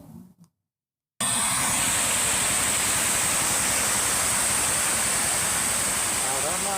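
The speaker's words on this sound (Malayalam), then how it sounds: "കനാലിന്റെ ഒരു വശത്തെ ഭിത്തി തകർന്ന് വെള്ളം സ്വകാര്യ വ്യക്തികളുടെ പറമ്പുകളിലൂടെ കുതിച്ചെത്തുകയായിരുന്നു" Water gushes through a broken concrete irrigation canal wall, a loud, continuous, roaring rush that starts abruptly after a brief pause and keeps on steadily, close by.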